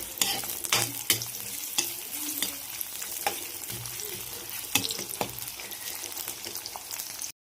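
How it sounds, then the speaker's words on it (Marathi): Onion sautéing in hot oil in a wok for dry mutton curry: a continuous close sizzle broken by repeated scraping and clacking strokes of stirring, with no talk. "कांदा छान परतून घ्यायचा तेलामध्ये."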